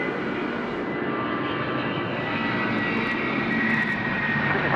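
A jet airliner roars steadily down the runway on a night takeoff at Sydney Airport, its engine noise loud, broad and constant throughout, with no talking.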